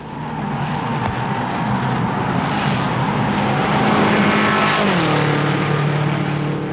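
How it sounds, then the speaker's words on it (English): Race cars at the 1959 Indianapolis 500 roar steadily at about 140 miles per hour, and one engine note sweeps down in pitch as a car passes near. "Pressed by Rathman, Ward is running 140 miles per hour."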